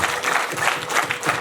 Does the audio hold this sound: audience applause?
yes